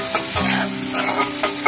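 Spoon stirring chili powder, turmeric and salt into greens in a hot pan, a soft continuous scraping with light sizzle and a few sharper clicks of the utensil against the pan.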